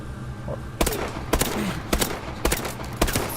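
Single shots from the Bal-27 rifle's .223 Marksman variant in Call of Duty Advanced Warfare: five sharp, evenly spaced reports about half a second apart, each loud and abrupt over a steady background hum.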